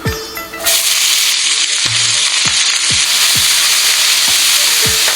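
Onions drop into hot oil in a pan for lamb rogan josh and burst into a loud, steady sizzle, with a few soft stirring scrapes recurring under the continuous frying hiss.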